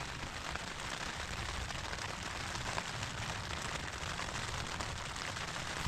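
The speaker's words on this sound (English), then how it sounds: "Can you hear that rain?" Steady rain falls outside during a winter solo camp in the Lake District, a constant dense patter heard from indoors with no voices.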